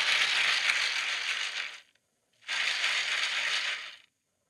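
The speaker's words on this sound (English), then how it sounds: "Are you shaking ice in a cup?" Two long bursts of ice rattling and clattering as it is shaken in a cup, a dense hissing rattle separated by a short pause, near and unaccompanied by talk.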